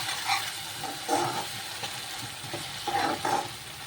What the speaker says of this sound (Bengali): ভালো করে মশলাটা ভাজা ভাজা হোক।